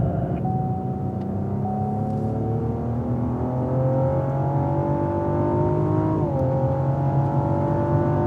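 A car accelerating down a race track straightaway, its engine note climbing steadily in pitch with a brief dip near the end, loud and continuous from inside the vehicle.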